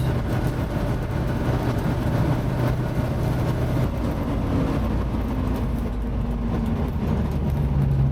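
A 1969 Ford Mustang with manual transmission and 59K original miles, heard from inside as a steady engine drone and road rumble, with a shift in pitch partway through as it changes gear.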